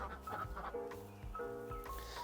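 Ducks on a farm property give a few short nasal calls and clucks, close and moderately quiet, with brief pauses between the bursts.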